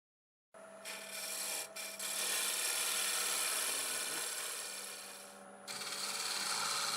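A gouge cuts into a segmented oak vase spinning on a wood lathe, making a loud, continuous rasping hiss that starts abruptly, dips briefly, then holds steady before shifting near the end.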